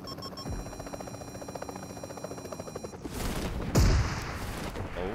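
Gunfire in PUBG Mobile, a rapid rattling burst of automatic shots for about three seconds, then a louder heavy impact and rumbling blast, close and without talk.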